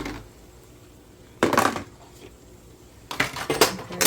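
Fluffy cooked eggs scooped into a bowl at breakfast prep, heard as two bursts of close utensil scraping and clinking against the dish separated by a quiet pause.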